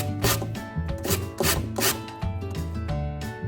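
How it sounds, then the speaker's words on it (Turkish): Rhythmic rasping strokes repeat at a quick steady pace, a close scraping of lemon peel against a grater, with a faint tonal hum in the background. "Şimdi limon kabuğunu biraz rendelemek istiyorum."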